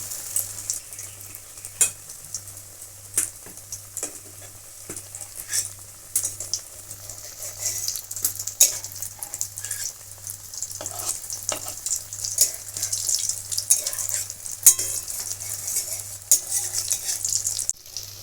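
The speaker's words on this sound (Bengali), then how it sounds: "লাল লাল করে ভেজে নিয়েছি। এখন এগুলো আমি তুলে দিচ্ছি।" Jackfruit pakoras dipped in gram-flour batter deep-fry in hot oil, Bengali style, a continuous loud sizzle broken by sharp clinks and scrapes of a utensil stirring and turning them in the pan.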